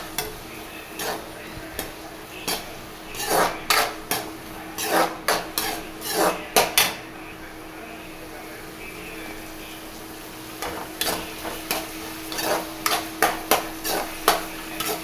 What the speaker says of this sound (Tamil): அந்த வெங்காயம் நல்லா ப்ரௌன் கலரில் வர்ற வரைக்கும் நல்லா வறுக்கலாம்